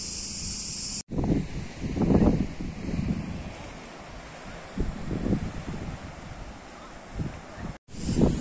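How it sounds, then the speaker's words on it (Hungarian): Evening wind gusts across the hilly coast of eastern Crete among olive groves, rumbling against the microphone in uneven surges with brief dropouts. "fúj az esti szél."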